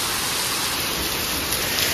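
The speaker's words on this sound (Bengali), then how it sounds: "এখন এইরকমভাবে বৃষ্টি হচ্ছে।" Heavy rain pours down steadily in front of a house where water has pooled, a dense, unbroken hiss that stays loud and even throughout with no voices.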